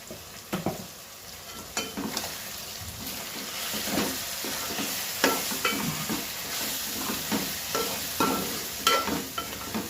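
Green chicken curry cooking in a pan after coconut powder and masala go in, with a steady low sizzle and repeated scraping stir strokes spread across the whole stretch, no voices.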